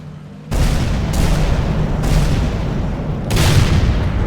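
Tank cannon shots from the World of Tanks video game, Centurion tank: loud broadband booms at about half a second, one, two and three and a third seconds, each leaving a sustained rumbling roar, with no talk.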